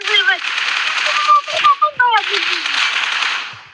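M4 rifle gunfire in PUBG Mobile, a steady close burst of rapid automatic shots running almost throughout, broken by short gaps, with whistling game sound effects layered over it.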